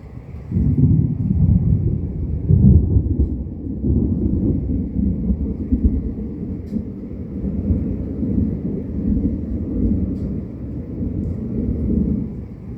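Rolling thunder rumbles low and continuous through a morning rainstorm, swelling and fading over several seconds beneath a faint hiss of rain, with no talking.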